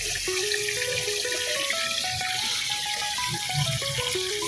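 Water runs continuously into a hydroponic vegetable tank as it is topped up, a steady close splashing pour with a thin tonal note wavering above it and no talk.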